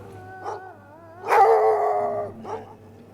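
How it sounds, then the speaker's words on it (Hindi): Street dogs in a lane barking and howling, a few short barks followed by a long drawn-out howl and another bark, moderately close with no talk. "गली के कुत्तों के भौंकने की आवाजें मेरे कानों में पड़ी"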